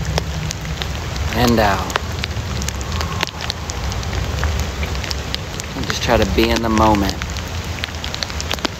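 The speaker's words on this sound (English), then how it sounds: "Can you hear the rain?" Steady rain falls in a continuous hiss of patter on surfaces while a calm voice speaks over it.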